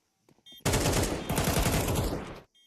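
Rapid automatic gunfire in Counter-Strike 2, a loud burst of closely spaced shots lasting nearly two seconds, preceded by a couple of faint clicks and ending abruptly.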